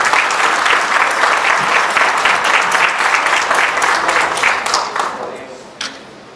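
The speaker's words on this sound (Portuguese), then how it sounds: "Nosso aplauso para ele." An audience gives steady, loud applause in tribute, a dense wash of clapping that holds for about five seconds and then fades away, with a final scattered clap.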